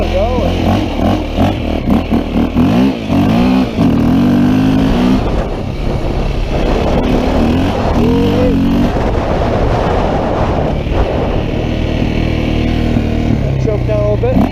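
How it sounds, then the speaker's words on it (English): A KTM 525 EXC motorcycle engine fires up on electric start and revs, with rising and falling engine pitch, loud and close, while people talk over it. "We got electric start. We'll go for a ride with that. That should fire right up and go."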